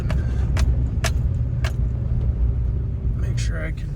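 A vehicle backs up on a spring day, its engine rumbling low and steady up close, with faint clicks and jingles on top and someone talking over it.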